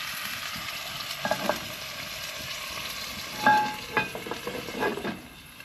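Food cooks in a pot over a cast iron firebox inside a hot tent, a soft, low sizzle running throughout, broken by a few brief clinks and stirring scrapes.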